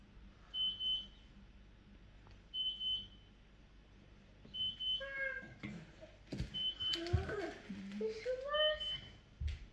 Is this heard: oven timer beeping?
yes